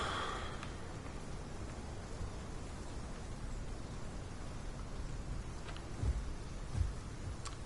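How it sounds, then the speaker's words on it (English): Heavy rain pours steadily in a canyon, a dense continuous hiss with a couple of low thumps of thunder near the end and no one speaking. "Boy, it's rainy. It's raining hard."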